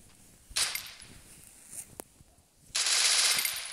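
AK-47 fire in the Free Fire video game: two sharp bursts of rapid shots, with a single crack between them, crisp and fairly close, and no talking.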